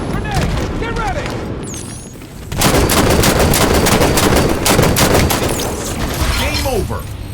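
Halo 5 multiplayer match with a grenade blast and rapid gunfire, busy combat noise that jumps louder midway into a dense, continuous burst of shots and booms.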